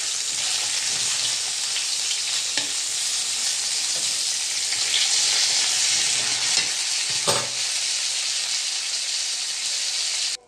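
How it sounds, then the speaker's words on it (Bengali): Five pieces of fresh live fish sizzle in a little hot oil in a home kitchen, a continuous close crackle broken by occasional sharp pops and scraping taps as the pieces are turned. "গাইস কম মাছ করে মাছগুলো ভাজছি,"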